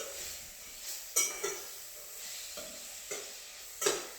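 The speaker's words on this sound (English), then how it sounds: "as you can hear, it starts to go down, the simmer starts to slow down a little bit" Burrito filling simmering and sizzling in a hot pan, a soft steady crackle broken by a few brief scraping stirs.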